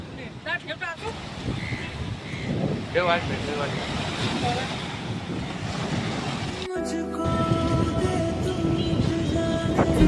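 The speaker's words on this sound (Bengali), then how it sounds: "পুরা সমুদ্র দেখো, ঢেউ।" Sea waves wash onto the beach at Digha in a steady, breezy roar, with some wind noise on the microphone and brief voices nearby.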